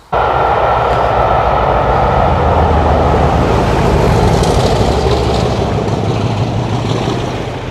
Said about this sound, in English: That was an interesting sounding train.